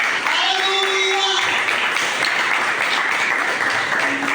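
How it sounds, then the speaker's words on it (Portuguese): Applause from a church congregation at a Portuguese-language service fills the space in a steady, broadband wash of clapping, mixed with some murmured voices and a sustained tonal note. "Você pode dar uma aplauso a ele."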